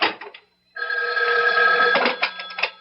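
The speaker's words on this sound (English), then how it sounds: "Excuse me, that's my phone." A telephone bell rings loudly and steadily for a couple of seconds after a brief rattle and a pause, close by.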